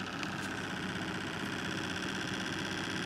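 A Bedini motor runs steadily, giving a continuous mechanical hum with a fast, even pulsing whir at moderate level and no talk.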